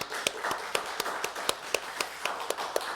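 Steady, evenly spaced hand claps ring out about four per second, a short run of rhythmic clapping from a church congregation with a faint hum beneath.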